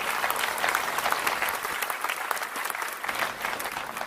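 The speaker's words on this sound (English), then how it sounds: "Big round of applause for John and his wife." A crowd at an outdoor political big-tent event in Wilmot applauds John and his wife, with dense, continuous clapping at an even level and a few brighter claps standing out close by.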